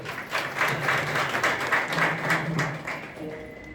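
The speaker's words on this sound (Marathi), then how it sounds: "एकदा टाळी वाजवा." An audience at a kirtan claps in a dense, sustained burst of applause that fills the room for a few seconds and then thins out near the end.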